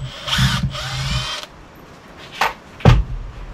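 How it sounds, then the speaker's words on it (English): A power drill backs out the last screws holding edges that were sealed with Sikaflex, giving two loud bursts of whirring in the first second and a half, then short clicks and knocks, close by with no talk. "I'm just taking the last of the screws out that were holding the edges on when I Sikaflexed it"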